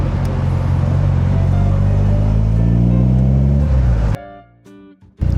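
Triumph TR2 sports car driving on Sydney city streets, its exhaust giving a loud, steady low rumble that rises in pitch under acceleration for about four seconds, then drops away abruptly to quieter idle bursts.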